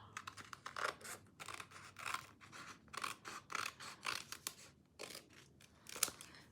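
Scissors cutting out paper shapes for scrapbooking, close and quiet: a steady run of crisp snipping strokes, roughly a dozen cuts in rhythmic succession with no talking.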